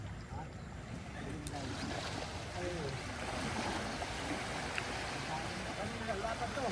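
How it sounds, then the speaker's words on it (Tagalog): A steady wash of churning water and engine-like rumble from an arriving boat fills the scene, constant and broad, with faint voices beneath it. "lumakas ang lumakas ang tubig. Dahil doon. Dahil sa dumating na bangka."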